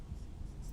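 A brief, faint scratch of a pen or chalk writing a chemistry formula, a soft continuous scraping under low background hum.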